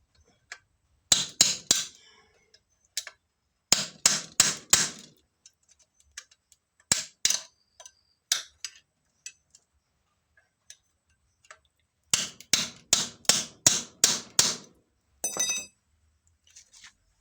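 A tool tightens a loose ball-type bottom bracket on a bicycle, making crisp metallic clicks in quick bursts of four to six, separated by pauses and a few single ticks. The clicks are close and clear, with no talking.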